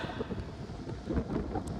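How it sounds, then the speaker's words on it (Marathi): Rain begins falling over a mountain pass road near Pune, a steady broadband hiss with low wind rumble, continuous and fairly loud, with no one talking. "पाऊस यायला लागलाय"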